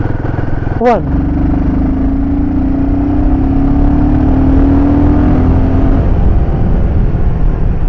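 A Royal Enfield Himalayan 450 motorcycle pulls in fourth gear on a slope, its engine drone climbing steadily in pitch and then easing off, loud and close under wind noise, with a brief spoken word at the start.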